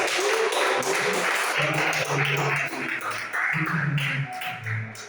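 A church congregation claps for Jesus at a Portuguese-language evening service, a dense patter of hands that swells and dips over several seconds, with a voice and some lower tones sounding underneath.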